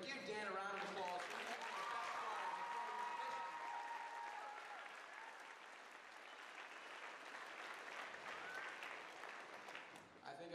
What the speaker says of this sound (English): Ladies and gentlemen, give Dan a round of applause